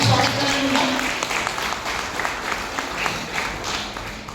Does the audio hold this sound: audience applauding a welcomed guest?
yes